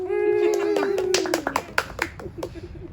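A pair of parents clap for themselves, a short close burst of brisk applause that starts after a voice speaks and fades within about two seconds.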